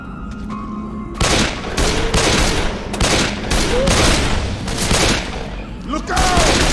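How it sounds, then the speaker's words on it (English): Heavy shotgun blasts boom repeatedly in the zombie shooter game Left 4 Dead 2, several loud shots roughly a second apart over game noise, with voices talking between them. "Shotgun."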